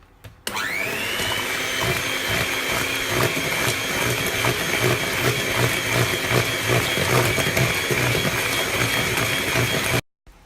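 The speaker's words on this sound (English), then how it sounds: "Now add the coconut milk, and then mix it on a low speed." An electric mixer runs on low speed through carrot cake batter with coconut milk, a steady whirring motor hum with a rhythmic churning beat that starts abruptly, holds for about ten seconds, then cuts off, with no talking.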